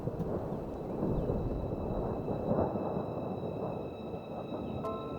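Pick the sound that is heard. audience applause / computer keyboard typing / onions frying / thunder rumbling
thunder rumbling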